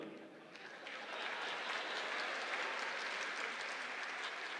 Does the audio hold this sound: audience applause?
yes